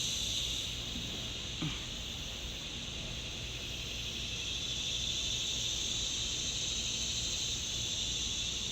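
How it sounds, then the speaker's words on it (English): A continuous high, buzzing insect drone of cicadas fills the background, steady and even throughout, with no talking. "Listen to those cicadas."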